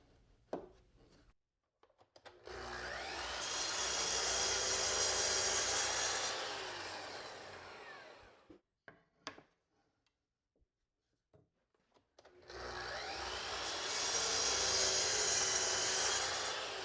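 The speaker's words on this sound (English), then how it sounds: "Now I've set up a stop block and I'll cut them all to length." Power saw cutting wooden slats to length against a stop block: two sustained whining cuts of several seconds each, separated by a quiet gap with small clicks and handling knocks, no speech.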